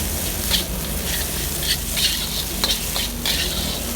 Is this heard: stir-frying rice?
yes